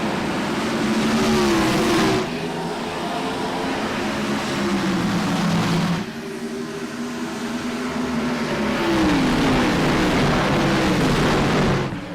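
Race cars accelerate hard on a green-flag restart at Phoenix in an IROC Challenge Series race. Engine notes rise and shift through several loud revving surges over about twelve seconds.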